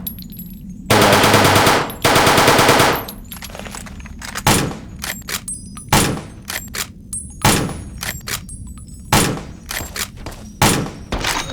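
Enemy fire in Fallout New Vegas: a long sustained automatic burst opens, followed by a steady series of loud, sharp single shots and thuds, spaced a second or so apart.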